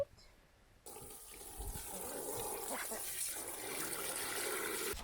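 Fresh water pours into a chickens' container on a backyard farm, a steady rushing splash that starts abruptly after a quiet moment and runs on evenly to the end.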